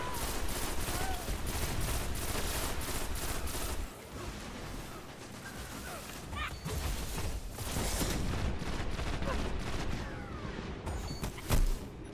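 Rapid automatic gunfire from a gun in the video game Destiny rattles in long sustained bursts during a player-versus-player match, loud and close, briefly easing before resuming, with a few heavier booms and faint voices underneath.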